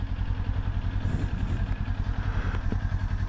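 A large Kawasaki motorcycle engine with four exhaust pipes idles with a steady low rumble and faint clatter, close by, with no talking.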